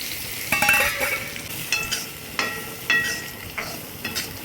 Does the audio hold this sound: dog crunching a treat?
no